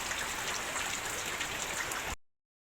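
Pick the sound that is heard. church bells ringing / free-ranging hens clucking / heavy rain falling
heavy rain falling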